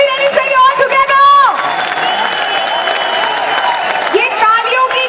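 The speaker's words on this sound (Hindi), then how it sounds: "ये तालियों की गड़गड़ाहट" A large crowd at a corporate wellness company event claps and cheers loudly and steadily, with an amplified voice calling out over the ovation.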